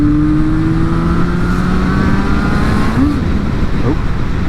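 Yamaha RD350LC two-stroke motorcycle riding on the road, a steady loud engine drone with falling pitch and a brief lurch as the clutch is pulled too quickly over a bump.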